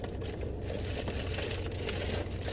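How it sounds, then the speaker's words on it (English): Crinkly plastic packaging for new car accessories being torn and opened up close, a continuous loud rustling and crackling throughout. "Let's open up the next package."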